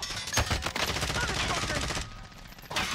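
Rapid video game gunfire crackles in dense bursts, loud and continuous through most of the stretch, with players shouting over it on team chat.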